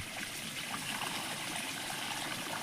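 Water pours steadily into a mix of a handful of urea and herbicide at a paddy field, a continuous faint splashing trickle with no pauses and no voices.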